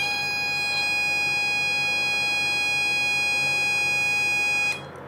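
Buzzer of an NE555 variable timer circuit driving an electrical load, a steady loud continuous tone sounding for about five seconds before cutting off, with faint clicks at the start and finish.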